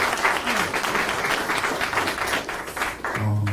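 A crowd at a book party applauds after a poetry reading. The clapping is steady and lively for about three seconds, and then a voice starts speaking as it ends.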